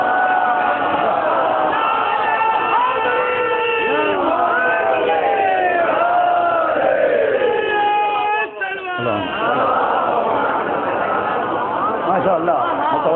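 A large crowd at a Shia majlis gathering chants a religious slogan in unison, many voices rising and falling together, loud and close with a brief dip near the end before the chant resumes.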